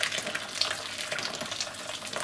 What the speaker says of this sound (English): I'm going to pour the water onto the fish